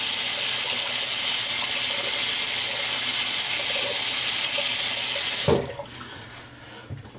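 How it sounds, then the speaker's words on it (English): A sink faucet runs in a steady, loud hiss while someone wets their face before shaving, then cuts off abruptly near the end, leaving a quiet room and a faint clink. "let me wet my face a little bit, because the longer I take, the drier the shaving cream starts to become."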